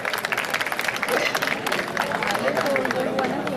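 Audience applause greets an award recipient at an alumni meet in Azamgarh, a steady dense wash of clapping with crowd murmur and voices mixed in throughout.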